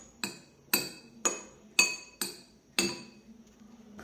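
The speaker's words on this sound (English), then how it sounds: "Now I'll mix everything properly." Six evenly spaced clinks of a spoon striking a bowl while salt, chili powder and chaat masala are stirred together, sharp and bright, close and alone with no talking.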